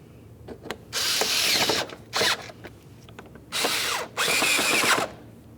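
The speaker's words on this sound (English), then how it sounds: "continue on with your Phillips head screws, making their way all the way around" A power drill drives Phillips head screws into the fender liner of a 2010-2013 Ford Transit Connect in four loud, close whirring bursts of about a second each, with brief ratcheting clicks between them.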